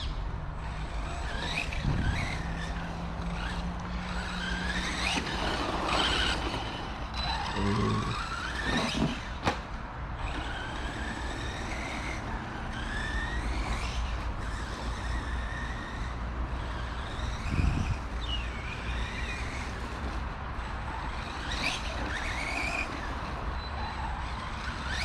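A Maverick Strada MT radio-controlled monster truck bashes around outdoors, its small motor whining up and down in repeated revs, with a few skids and tumbling clatters, fairly faint and distant.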